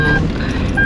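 A 2016 Toyota Avanza seatbelt warning alarm sounds inside the car, a loud, clear electronic beep tone heard once at the start and again at the end of a brief moment.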